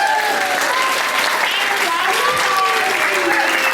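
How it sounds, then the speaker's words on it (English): Steady, dense applause from an audience during a live event, sustained and fairly loud throughout with no pauses. "let's give him another round of applause"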